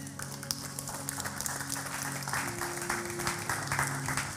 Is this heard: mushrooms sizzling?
no